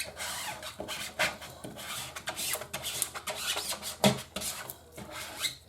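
A scraper rubbed firmly over a transfer on a screen-printing screen for a mouse pad, giving close, repeated scraping and rasping strokes in an uneven rhythm, with no voices.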